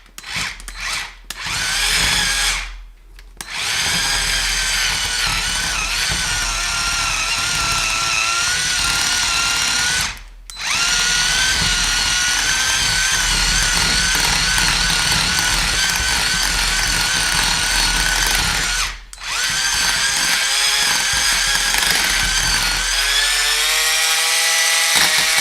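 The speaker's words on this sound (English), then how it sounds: "this is just the Black & Decker cordless hand mixer" A Black & Decker cordless hand mixer whirs loudly and steadily up close, mixing mac and cheese ingredients, its motor pitch wavering, with three brief stops where it cuts out before restarting.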